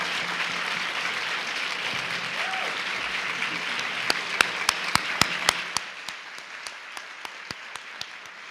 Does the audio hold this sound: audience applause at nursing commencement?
yes